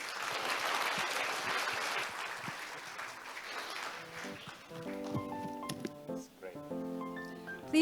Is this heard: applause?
yes